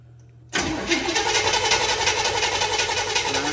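A Chevrolet Squarebody truck's carbureted engine cranks briefly, then catches and settles into a loud, steady rough running roar, heard close up with no voices.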